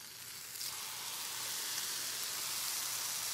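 Soaked challah French toast fries in a pan, giving a soft, even sizzle that holds steadily throughout with faint bubbling crackle.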